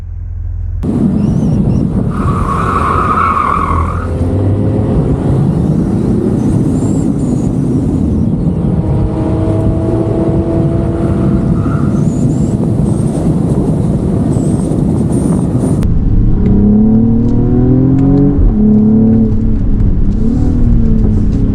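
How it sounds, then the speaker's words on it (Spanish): A Mercedes GLE 53 AMG (2023) with its inline six-cylinder engine and sport exhaust valve, heard while driving: a continuous engine drone with rising and falling revs and shifting tones, steady and close, with no talk. "abrir una palometa en el escape para que el sonido del escape sea todavía más deportivo"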